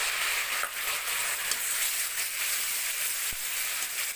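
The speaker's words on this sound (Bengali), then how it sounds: "এবার আমি টমেটো বাটাটা দিয়ে দেব।" Tomato paste added to spices frying in a pan for a peas, potato and paneer curry, a steady close sizzle with a few faint stirring scrapes.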